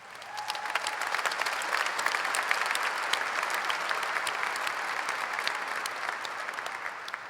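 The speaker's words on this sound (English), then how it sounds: "So let's give them a round of applause." A graduation crowd applauds at a senior high school ceremony, a steady dense wash of many hands clapping at even loudness throughout, without talk.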